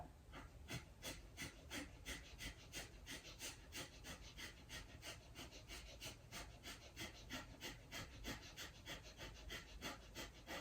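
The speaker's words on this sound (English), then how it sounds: "start to find your breath entering and leaving your nose. And then we'll begin that quick exhale." Quick, forceful exhales through the nose during a metabolism-boosting yoga session repeat in a steady, rapid rhythm, about two per second, close and fairly soft, with no talking.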